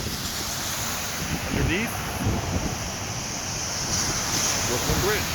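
Strong winter wind roars over the Brooklyn Bridge on a snowy day, a steady loud buffeting of the microphone with a person speaking faintly under it.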